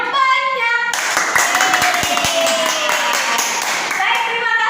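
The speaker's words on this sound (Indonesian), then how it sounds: "Tepuk tangan yang banyak." Children in a classroom clap their hands in a quick burst of several sharp claps, close and loud, while an adult voice and a tonal melody carry on around them.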